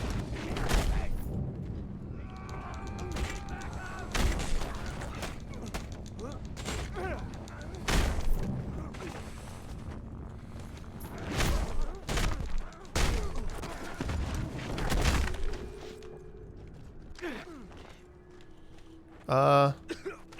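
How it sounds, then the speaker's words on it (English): Gunfire from shooting an enemy in the Mad Max video game: repeated sharp broadband bursts and thuds spread across the clip, mixed with rumbling game effects, with a voice talking over parts of it. "I guess shooting him still builds Fury"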